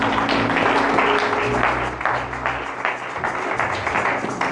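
A church congregation breaks into loud, sustained applause, dense clapping from many hands close by that tapers slightly toward the end.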